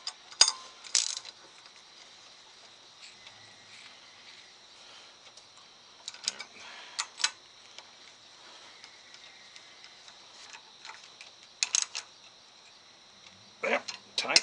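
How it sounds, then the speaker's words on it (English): A ratchet tightens a fitting while a sprayer is being readied, giving short bursts of quick metallic clicks separated by quiet pauses, close and fairly faint. "now get to use something called a ratchet"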